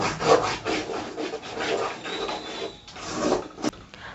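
Egg chutney mixture scraped and stirred in a pan, a steady rasping, rubbing scrape repeating in quick strokes close up, with a brief sharp clink near the end.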